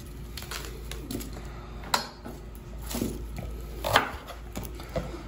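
An onion is chopped in big rough cuts on a board at a farmhouse kitchen in Ambewela, Sri Lanka, with a handful of close, uneven knife knocks spread over a few seconds amid quiet background.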